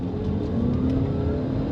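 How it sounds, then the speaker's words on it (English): A car on Continental UC7 tyres runs a wet brake test, a steady close engine and tyre roar holding at an even level throughout with no talk over it. "this is the wet brake test"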